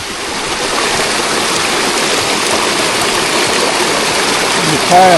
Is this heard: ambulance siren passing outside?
no